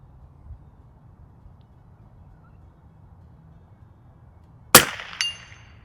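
A single sharp rifle shot from an Anschutz 1827 biathlon rifle, followed a split second later by the faint metallic ring of a small steel target plate, after several seconds of quiet outdoor hum.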